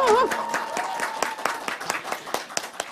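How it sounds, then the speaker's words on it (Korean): A small audience claps to welcome presidential candidate Lee Jae-myung at a political event, with a steady, moderately close patter of hands and a voice speaking briefly over the start. "큰 박수 부탁드립니다."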